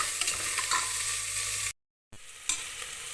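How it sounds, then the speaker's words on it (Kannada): Finely chopped onions with curry leaves fry in a pan for a bath recipe, giving a loud, close, steady sizzle with stirring scrapes, broken by a brief silent cut before the frying resumes. "ಈರುಳ್ಳಿ ಚೆನ್ನಾಗಿ ಫ್ರೈ ಆಗಬೇಕು"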